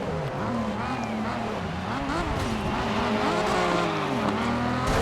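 A race car engine in GRID 2019 revs and shifts continuously up close, its pitch rising and falling through gear changes as it laps a circuit with kerbs, with someone talking over the steady engine roar.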